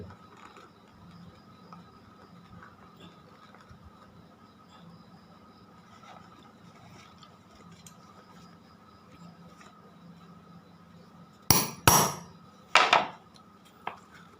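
Metal eyelets are hammered into a canvas shoe for the laces. After a long quiet stretch of faint room hum, four or five sharp, loud knocks land in quick succession near the end.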